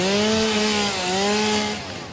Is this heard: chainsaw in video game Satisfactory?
yes